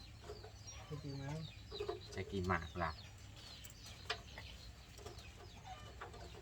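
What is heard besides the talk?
chickens clucking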